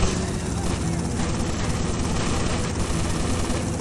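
A helicopter flies in the video game GTA Vice City Stories, a steady, dense rotor and engine drone that holds at an even level throughout with no pauses.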